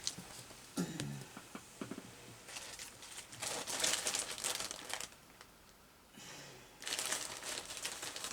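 Very old paper is handled and crinkled during a crafting session with serviettes, making dry rustling that rises and falls in uneven bursts. Quieter stretches fall between the louder crumpling passages, all close by and with no speech.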